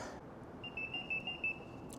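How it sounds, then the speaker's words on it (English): A faint electronic low-battery warning beep from a Ninebot Max G3 electric scooter, a thin tone with a few quick pulses over low background hum, at night. "Oh, low battery level. You hear that, folks? It just beeped at me."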